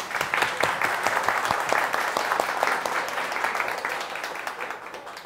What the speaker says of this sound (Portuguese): vamos agradecer a volta dele com uma salva de palmas